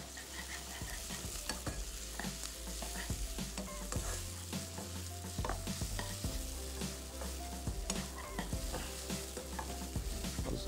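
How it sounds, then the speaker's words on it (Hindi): Chopped onion and small green chilies sizzling and frying in a pan while being stirred, a steady crackling hiss with stirring scrapes, close and alone. "जरा सा प्याज को नरम करेंगे।"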